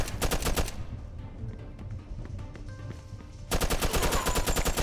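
Rapid bursts of MP40 submachine gun fire in Mafia 2, loud and close, with a sustained rattling burst at the start and another at the end, separated by quieter game ambience and scattered distant shots.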